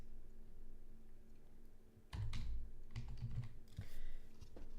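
Typing on a computer keyboard starts partway through, with a quick cluster of close key clicks followed by a few more scattered taps and a short burst near the end, over faint room hum.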